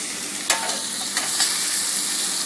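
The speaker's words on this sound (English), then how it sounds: "you put the onions in around the steak, let them cook" Onions and steak sizzle loudly in a pan for a steak sandwich, a steady frying hiss with a few sharp stirring scrapes and pops, close up and alone.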